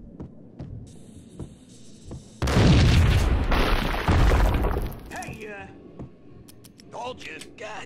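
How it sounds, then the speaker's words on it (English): A heavy explosion in the video game Max Payne lands suddenly and loud. It rumbles and crackles for a couple of seconds, then fades into scattered clicks and softer game effects. "I thought it was a bomb for sure"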